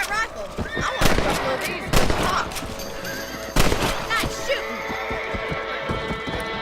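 Rifle shots fired at rabbits in the video game Red Dead Redemption, several sharp cracks spaced a second or two apart, mixed with horse whinnies and ambient game sound.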